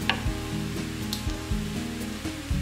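Mushrooms and eggplant sizzling in a pan over medium heat: a close, crackling sizzle broken by rhythmic stirring scrapes and soft knocks that recur every half second or so.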